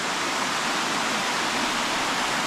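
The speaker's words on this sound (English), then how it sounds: "so we found a part of this waterfall" Tiered waterfall at David Crockett State Park in Lawrenceburg, Tennessee, roaring as a steady, dense wash of falling water, loud and continuous throughout with no voices.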